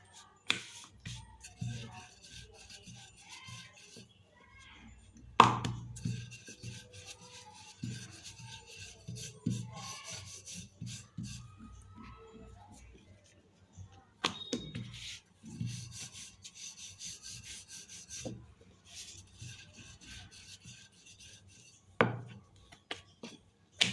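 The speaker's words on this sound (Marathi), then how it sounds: "जसं पुरणपोळी लाटतो त्याच पद्धतीने हलक्या हाताने ही पोळी लाटून घ्यायची" Sweet potato flatbread dough rolled out gently by hand, with quiet intermittent rubbing and light knocks of the rolling pin close by and a few sharper taps, no talking.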